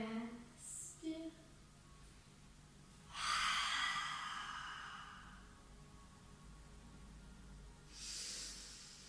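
A faint, breathy inhalation during a yoga breathing exercise, rising around the middle of the clip and fading slowly, with a shorter breath near the end and small soft sounds before it.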